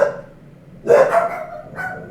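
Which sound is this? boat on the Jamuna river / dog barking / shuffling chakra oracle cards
dog barking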